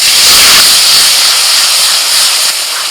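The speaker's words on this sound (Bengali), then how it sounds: "ওই তেলের মধ্যে আমি প্রথমে দিয়ে দিচ্ছি পেঁয়াজ বাটা" Onion paste hitting hot oil in a village-style kitchen: a loud, bright, continuous sizzle and hiss, close up, easing slightly toward the end, with no voices.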